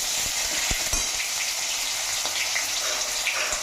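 Tomatoes and cumin seeds sizzle loudly and continuously in hot oil in a pan, a dense close frying hiss with a few small stirring clicks and no talking.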